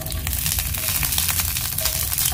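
Okra pan-fries in a little oil in a large pan, a steady close sizzle with faint crackles running throughout, with no voices.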